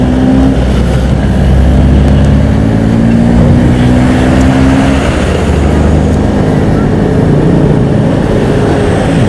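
A freshly serviced motorcycle engine pulls hard on a road near a market and truck terminal, a loud, steady drone rising in pitch under heavy wind rumble, close and continuous.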